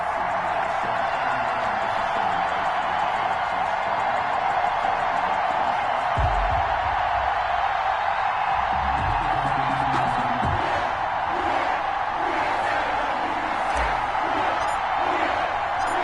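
A stadium crowd roars steadily in an EA Sports football video game between the Arizona Cardinals and New Orleans Saints, a dense, loud wash of cheering with occasional thuds and faint voices.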